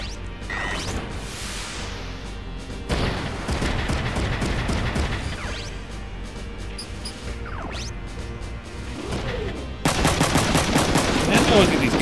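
Machine guns fire in the video game Front Mission 3, dense rapid bursts mixed with whooshes and impacts, growing louder toward the end, with no voices over them.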